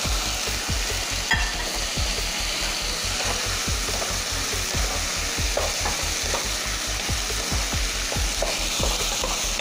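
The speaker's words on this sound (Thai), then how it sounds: "พริกกระเทียมของเราหอมดีแล้วนะคะใส่ลูกชิ้นลงไปเลยจ้า" Pork tendon meatballs fry with chili and garlic in a pan under a steady, loud sizzle, while a spatula scrapes in quick, regular stirring strokes throughout with no talking.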